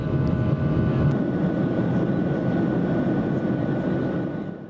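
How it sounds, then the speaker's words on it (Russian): A passenger airplane descending toward Foz do Iguaçu after a stopover in São Paulo, heard from inside the cabin as a steady loud engine roar with a broad low hum that stays constant and fades slightly at the end. "Наконец наш самолет идет на посадку в Фос-ду-Игуасу."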